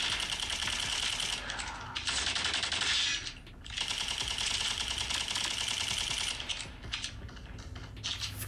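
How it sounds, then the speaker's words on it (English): A video game gun fires rapidly in long, dense bursts of fast rattling shots that break off briefly a couple of times before starting again. "this gun's pretty sweet, man. It shoots bullets fast."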